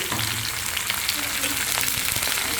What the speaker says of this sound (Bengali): আমার মরিচ পেঁয়াজগুলো ভাজা হয়ে গিয়েছে